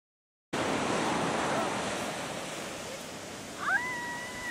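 Broadband surf roar of waves washing onto a sunny Florida shore, steady and loud throughout after a brief silent start, with wind buffeting and a short cat-like meow near the end.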